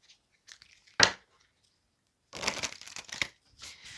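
Tarot cards are handled and shuffled close up, with a sharp snap near the start followed after a pause by a burst of riffling, rustling card noise.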